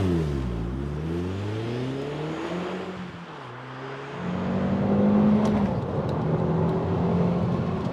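A first-generation Audi TT with the 1.8-litre quattro engine launching hard from a brake-boosted start, its engine note climbing through rising sweeps with quick dips between gear changes, loud and close, then settling into a strong sustained pull.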